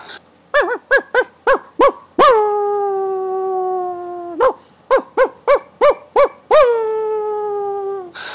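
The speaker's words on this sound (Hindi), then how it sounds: "तब वहां कुत्ते के भौंकने की आवाज आ रही थी।" A dog barks in two quick bursts of short, sharp yips, each ending in a long, drawn-out howl. The sound is loud and close, with no talking.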